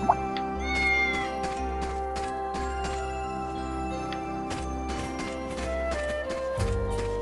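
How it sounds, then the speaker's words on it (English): A cat meows several times in the video game Fantasian, short repeated mews over a gentle, steady musical backdrop. "We have a cat here, hello."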